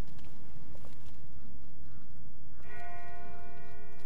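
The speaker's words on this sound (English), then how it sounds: "That's not the same bell as before. This one's further off." Distant bell in The Walking Dead video game strikes once with a clear ringing tone that lingers and fades, rising out of a low, rumbling outdoor background with faint shuffling before it.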